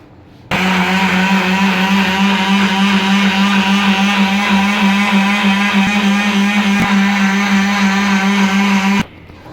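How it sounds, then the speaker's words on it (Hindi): An electric grinder whirs loudly and steadily for about eight seconds, blending black salt, roasted cumin and black pepper, then stops abruptly. "इन सब कुछ चीज़ों को अच्छे से ग्राइंड कर लें"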